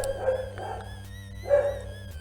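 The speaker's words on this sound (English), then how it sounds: "I apologize if you can hear my dog barking." A dog barks some distance away in two short bursts, set against a steady low hum and otherwise quiet surroundings.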